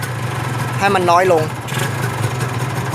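A carbureted motorcycle engine with an overly rich mixture idles steadily with a low, uneven rumble while someone speaks briefly in Thai over it.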